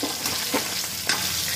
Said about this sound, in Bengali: মাছের মাথাটা দেখুন ভালো করে ভাজা হয়ে গেছে।